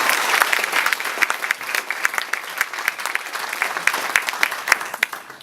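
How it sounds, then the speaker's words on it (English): Audience applause for the finalists at the 2017 New Zealand Museum Awards ceremony, a steady dense clapping from a large crowd that carries on evenly throughout without any speech. "A round of applause for each of the finalists."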